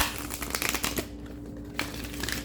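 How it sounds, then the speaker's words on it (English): Tarot cards shuffled by hand in quick riffling bursts, a papery flutter with a short pause before another run, close and fairly quiet. "Let's give this one another shuffle"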